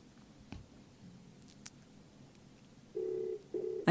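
A telephone call is dialed during a radio show, with quiet background shuffles giving way to two clear tones near the end, close and alone.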